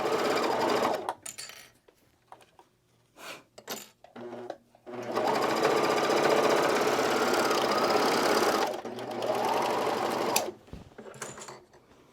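A serger stitches along the side seam of a t-shirt in bursts, its fast mechanical whirr running steady and close for several seconds at a time, with short pauses and quiet handling noises between runs.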